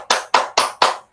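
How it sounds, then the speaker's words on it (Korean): Four sharp claps in steady rhythm, each a bright broadband burst with a short decay, spaced evenly and close, at the end of a live OBS basics class. "박수."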